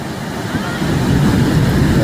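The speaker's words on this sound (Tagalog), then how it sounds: "Ang lalaki ng alon, oh." Large ocean waves break and roll onto the shore along the La Union coast, a steady low roar with wind noise that swells louder partway through, with no talking over it.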